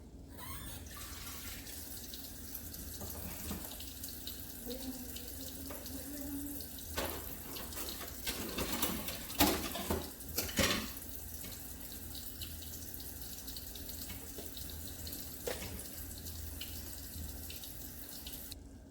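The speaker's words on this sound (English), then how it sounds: "I'm going to drain. There's a lot of oil and water in here." Oil and water pour and trickle out of a cooking pan into a kitchen sink, a steady running splash that swells in the middle with a few clatters and then settles.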